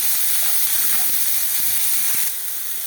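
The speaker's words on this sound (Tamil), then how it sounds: "நறுக்கி வச்ச வெங்காயத்தை போட்டு நல்லா வதக்கிடலாம்" A loud, continuous hiss and sizzle of chopped onions frying in hot oil, with faint clicks and scraping underneath.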